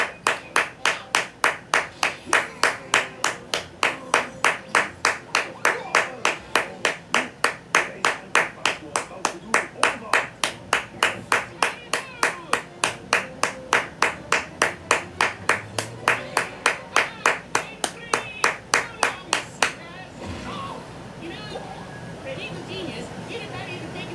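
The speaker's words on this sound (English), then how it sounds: "A round of applause to the people who think they doing something" Regular rhythmic clapping, like a single person or small group clapping in steady time, fills most of the clip with loud sharp claps before stopping near the end, leaving background noise and faint voices.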